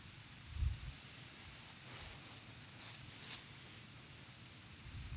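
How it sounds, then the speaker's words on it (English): Steady rain on a wooded outdoor setting, a faint continuous hiss with a few soft thumps and brief brighter patters, distant and even throughout. "It's raining again."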